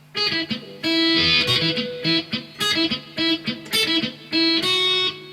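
A section on electric guitar with effects and distortion, a run of choppy, rhythmic strummed and picked notes with short bursts and ringing sustains, loud and upfront with no talking.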